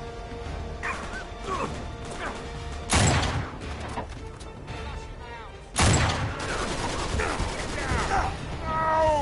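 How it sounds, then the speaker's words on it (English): Sniper rifle shots in Uncharted 3: Drake's Deception, two loud sharp cracks a few seconds apart over busy game ambience, with a voice talking at times. "Take the sniper. Shoot that guy."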